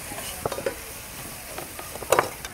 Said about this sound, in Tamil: மிளகாத்தூளை போட்டு கிண்டிட்டேன்